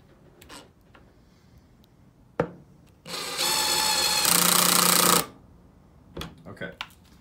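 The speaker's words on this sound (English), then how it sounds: "I'm gonna take the Dewalt on setting one on the clutch, you can see there, and see where it stops." A Dewalt 12V Xtreme screwdriver, clutch on setting one, drives a screw into wood: a loud motor whir lasting about two seconds, rising in pitch partway, then cutting off abruptly, with a few clicks and handling knocks before and after.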